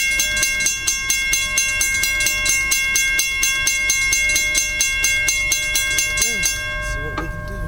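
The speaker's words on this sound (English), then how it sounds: "going to be CSX train Q581, CSX Monroe Subdivision, Edgemoor, South Carolina, in the snow." CSX intermodal freight train Q581 rolls past in the snow at Edgemoor, South Carolina, on the Monroe Subdivision, a loud sustained rumble with regular rhythmic wheel clicks and ringing metallic tones throughout.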